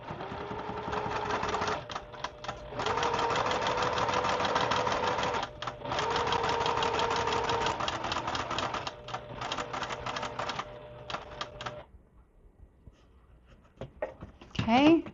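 A sewing machine sews Y seams on stiff quilt fabric for a sampler quilt, running in long steady bursts with short pauses, close and loud, then stopping near the end as a few handling noises follow.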